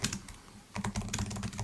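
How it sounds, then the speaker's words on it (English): Rapid typing on a computer keyboard, a steady run of close, crisp key clicks that pauses briefly and then resumes more densely, with no talking. "What are you typing?"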